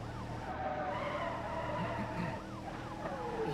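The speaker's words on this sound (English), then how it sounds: "He's slamming on the brakes." A car in the BeamNG driving game skids as it brakes hard during a police pursuit, a steady tyre screech with wavering tones and siren-like wails over a low engine hum, no voices.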